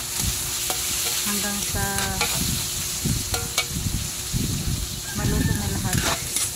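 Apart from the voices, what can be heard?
stirring tomatoes and onions sizzling in a frying pan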